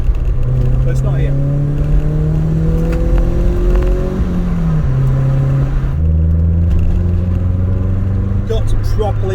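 A car engine revs and pulls strongly while driving, its rising and falling harmonic drone steady and close throughout, with a gear-change dip midway.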